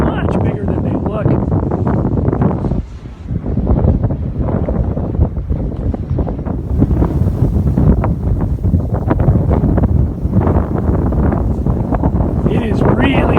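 Strong gusts roar constantly across a high ridge on Maui's Lahaina Pali Trail near the windmills, buffeting the microphone in loud, unbroken rumbling, with a voice faintly buried beneath.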